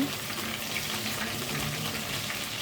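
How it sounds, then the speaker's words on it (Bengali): Crabs frying in hot oil in a pan while making a spicy crab curry, a steady, even sizzling hiss that runs unbroken and fairly loud throughout, with no talking. "কাঁকড়াগুলো দিয়ে ভেজে নিব"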